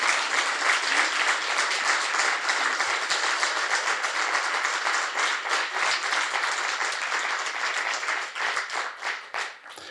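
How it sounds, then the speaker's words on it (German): A crowd applauds enthusiastically, dense sustained clapping that continues for several seconds and thins slightly at the end. "würde ich uns darum bitten, für ISD Applaus, einen richtigen Applaus zu geben"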